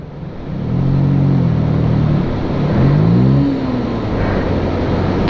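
A car engine labouring in first gear up the steep Shinkula Pass road toward Ladakh, a steady loud drone that swells and rises in pitch as it revs, with no talking.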